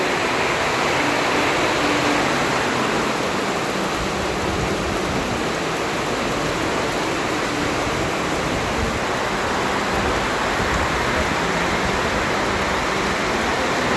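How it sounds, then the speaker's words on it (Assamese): A thick, unbroken roar of heavy rainfall fills the whole stretch, steady and near, with no voices or other sounds. "একদম ডাঙৰকৈ বৰষুণ দিছে।"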